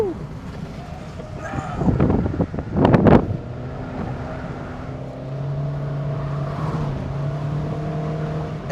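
A 2023 Honda Brio 1.2 RS CVT hatchback weaves through a chicane on a test course, its engine droning steadily from inside the cabin with wind buffeting the microphone, rumble swelling briefly, while a person talks over it.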